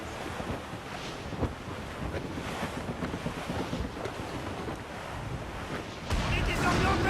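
Wind and sea waves in the video game Assassin's Creed Rogue, a constant roar of gusting wind and surging surf around a sailing ship, swelling louder near the end.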